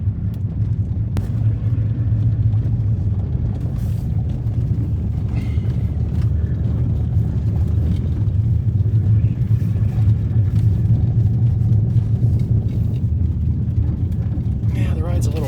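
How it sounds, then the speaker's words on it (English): A pickup truck rolling home on three flat tires, giving a steady loud low rumble of engine and road noise throughout, with faint knocks and a voice talking over it at times. "I should drive with 3 flat tires all the time."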